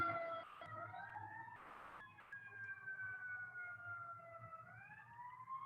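An ambulance siren wails close by, its tone sweeping and sliding steadily downward as the vehicle passes, loud and continuous over low traffic rumble.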